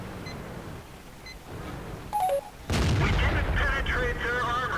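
A World of Tanks tank gun fires with a heavy broadband boom that opens a loud, sustained stretch of combat noise, preceded by quieter ambient rumble and a few short electronic beeps.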